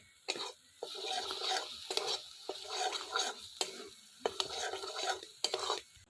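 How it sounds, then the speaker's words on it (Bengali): Spice paste frying in oil while being stirred for a Bengali snakehead fish curry with cauliflower and potato, with repeated scraping strokes of a spatula over a soft sizzle and clear pauses between strokes. "মশলা যত ভালো করে কষাবো তত তেল ছাড়বে।"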